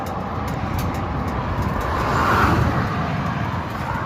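A hot 50cc motorbike engine runs steadily after a long ride, giving a continuous close broadband rumble that swells slightly midway and carries no voices.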